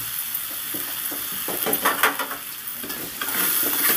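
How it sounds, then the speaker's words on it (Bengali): Ivy gourd (kundri) frying in oil while being stirred, a bright continuous sizzle with repeated spatula scrapes and clinks against the pan, close and fairly loud throughout. "এই হালকা ভাজা অবস্থাতেই আমি 2 মিনিট নেড়ে চেড়ে নিয়ে এটাকে তুলে নেব।"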